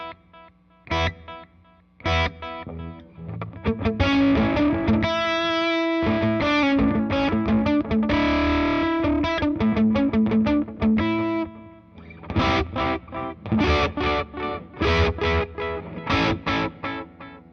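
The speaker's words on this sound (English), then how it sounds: "The repeats kind of get weird when you're using distortion after it." An electric guitar plays through a delay pedal feeding a distortion pedal, loud overdriven chords and notes whose echoing repeats smear and stack into a dense, warbling wash before choppy strums return near the end.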